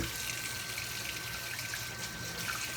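Tap water running into a kitchen sink while collard greens are washed, a faint, steady trickling stream that stays even throughout, with no talk.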